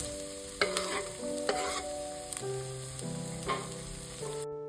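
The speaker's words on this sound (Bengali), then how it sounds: "তিনটে ডিম ফাটিয়ে রেখেছিলাম ওটা আমি ভেজে নেব" Three beaten eggs fry in hot oil in a wok, a steady sizzle running throughout while a spatula clacks and scrapes against the metal in several distinct strokes.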